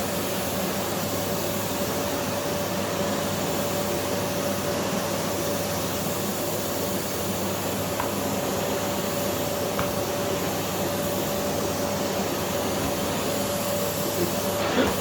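Philips Power Pro FC9331 compact bagless vacuum cleaner running on a floor, a steady, fairly quiet motor whine with a constant hum and no pauses.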